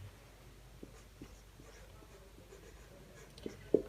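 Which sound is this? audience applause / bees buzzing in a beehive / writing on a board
writing on a board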